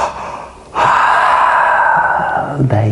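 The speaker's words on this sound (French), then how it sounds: "Et lâchez le souffle." A long, loud, breathy exhalation during a pranayama breathing exercise, steady airflow lasting about two seconds after a brief pause, then a short inhale.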